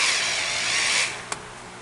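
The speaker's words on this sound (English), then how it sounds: "hit with the deburring tool here." A deburring tool chamfers a metal bike headlight bracket, a steady whirring grind that stops abruptly, followed by a single sharp click.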